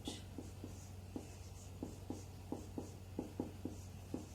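Pen or pencil writing fractions by hand on paper, a series of short scratchy strokes tapping out in an irregular rhythm, close and quiet against a low steady hum, with no talking.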